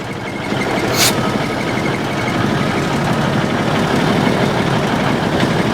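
A 1971 Autocar A64F truck engine runs with a steady, loud, low rumbling idle that carries on without a break, close by and with no talk over it.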